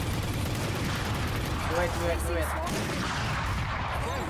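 Odin machine gun fire in a tactical shooter, a dense rattling stream of shots roaring steadily throughout, loud, with a voice speaking briefly over it.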